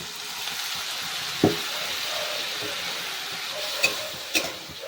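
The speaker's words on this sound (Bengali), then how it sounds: "মশলাটা যাতে ভালো করে ভাজা হয় তার জন্য অল্প একটু জল দিয়ে দেবো" Spice masala for a cauliflower snack fries with a little water in a pan, giving a steady soft sizzle with a few sharp utensil taps against the pan.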